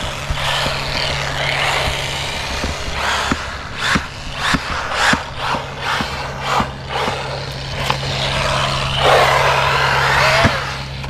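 An Arrma Typhon Grom RC car fitted with a Castle Micro Mamba motor drives on light throttle, giving a steady whir with a low hum and scattered clicks and knocks from the chassis, with no voices.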